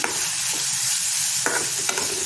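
Cluster fig mixture being stirred by hand with salt and gram flour, a steady soft scraping and mixing texture with a few brief louder strokes and no talking.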